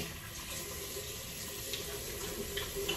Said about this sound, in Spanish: Me mojo las manos. Y lo hago con agua ni tibia ni fría, como intermedia.